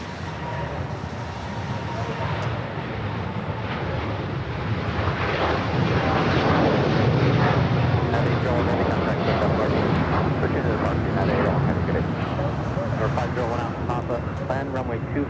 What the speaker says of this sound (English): Special livery on an Avianca A320 Neo just touching down.